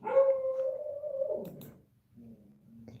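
A dog howls alone in a quiet indoor room, one long sliding howl that drops in pitch and fades, followed by a softer low whine.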